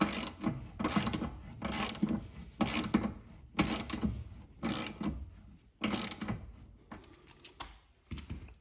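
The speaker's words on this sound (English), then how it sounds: "we'll have to nip this up with a 17mm socket" Ratchet with a 17mm socket tightening a rear camber arm bolt on a car, close and fairly quiet, about eight short bursts of rapid clicking separated by brief pauses.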